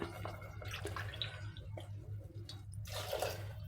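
Water is poured by the cupful into a pot of soaked millet for khichdi, a soft continuous splashing and trickling at moderate distance with a few brief louder pours.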